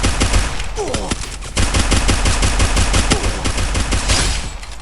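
Rapid automatic gunfire in the Free Fire mobile game, loud, close bursts of machine-gun shots rattling almost continuously for several seconds, with a brief lull then renewed firing.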